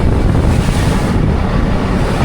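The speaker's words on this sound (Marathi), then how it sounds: "लाटा मोठमोठ्या आहेत." Big storm waves surge around a fishing boat at sea in strong wind, a loud, continuous roar of water and wind buffeting the microphone with no break.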